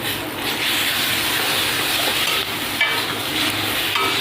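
Cumin paste hitting a hot pan of frying green banana and potato for a Bengali fish curry, giving a steady, close sizzle with some stirring scrapes throughout, no voices.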